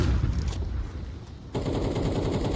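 Rapid automatic gunfire in a Counter-Strike match at a professional Major tournament rattles loudly and continuously, a dense volley that briefly drops off and then resumes.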